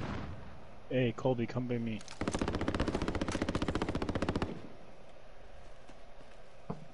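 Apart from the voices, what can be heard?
gunfire in the video game Warzone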